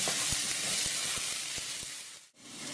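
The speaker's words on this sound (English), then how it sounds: "It's time to add our 5 minced garlic cloves. I'm going to cook those for about 2 minutes until they're aromatic." Minced garlic sizzles in a pan with onions and celery, a steady close frying hiss with soft clicks of stirring, briefly dipping near the end.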